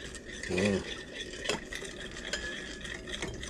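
Salt, pepper and sugar stirred into a liquid dressing for a salad mix, a short scraping and clinking of a utensil in a bowl with a few soft taps, with a brief voice partway through.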